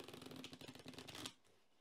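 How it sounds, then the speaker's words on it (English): Tarot cards from a Spellcaster's Tarot deck being shuffled close up, a quick run of crisp riffling flutters that stops abruptly, leaving near silence. "we're going to shuffle up the minor arcana"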